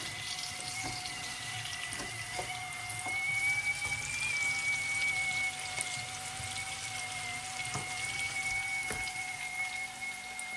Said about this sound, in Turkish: Çaydanlığımız kaynamaya başladı.